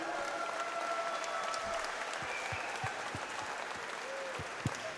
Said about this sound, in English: please put a big round of applause together for both of the fighters in the center of the cage